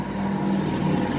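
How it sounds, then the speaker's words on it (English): A low, droning engine rumble of a large truck going by, steady and fairly loud for a brief moment. "Loud truck."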